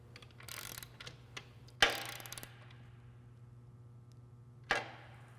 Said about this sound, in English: Using your 9/16 deep socket and wrench, tighten your 3/8 bolt and nut.